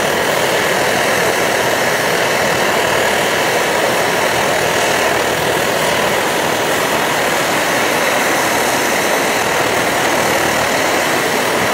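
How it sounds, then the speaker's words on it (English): An Optimus Hiker+ liquid-fuel camping stove burns with a blue flame, giving a loud, steady roaring hiss close by, with fine sputtering texture and no pauses. "The characteristic blue flame, the sputtering of the Optimus stove."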